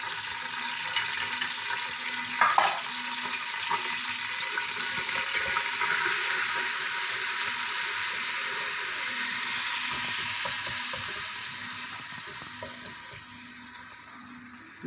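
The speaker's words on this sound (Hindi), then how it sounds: "घी गरम हो गया है, इसके अंदर ये गरम मसाला डालना जाएगा।" Whole garam masala spices sizzle steadily in hot ghee for a mutton stew, a continuous close bubbling hiss with a faint clink of a spoon, no talking.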